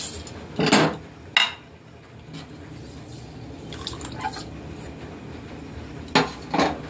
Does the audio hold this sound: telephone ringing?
no